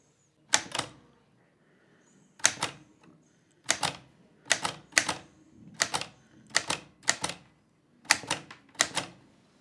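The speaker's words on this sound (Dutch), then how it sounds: "Zo, op de typemachine." Mechanical typewriter keys striking in short irregular bursts of several clacks each, with brief pauses between, close and crisp in a quiet room, recalled from typing lessons in the Netherlands between the wars.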